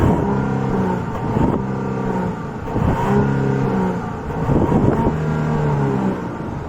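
A 2022 Genesis GV70's engine revs up and settles three times in a steady rhythm, loud and close, with a strong low rumble and no talking.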